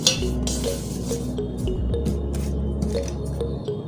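Hot water is poured and splashes over water leaves in a pot for soup, with wet squishing, drips and a few light clinks of cookware nearby.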